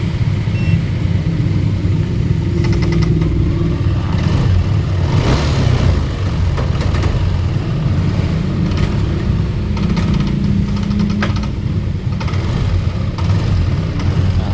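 A Yamaha NMAX scooter engine with a faulty MAP sensor runs steadily up close, its pitch rising and falling in a few revs before settling back to idle.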